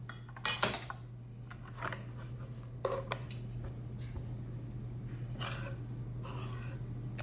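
Spoon scraping and clinking through a chicken casserole mixture in a crowded skillet, several soft metallic taps spread over a steady background hum, with no talking.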